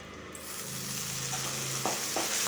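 Spices tempering in hot oil, with asafoetida, curry leaves and mustard seeds crackling as a dense, close sizzle that swells after a short quiet start and continues steadily, with a few sharper pops.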